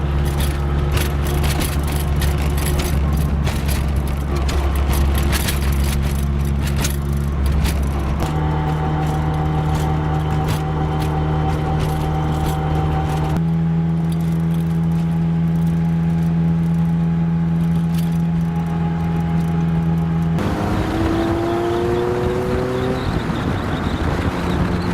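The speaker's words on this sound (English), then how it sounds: "the noise coming out of it it's kind of a loud exhaust" A Toyota AE86 drift car drives with a loud exhaust, a continuous droning engine roar from inside the car that shifts pitch through gear changes and rises in revs toward the end.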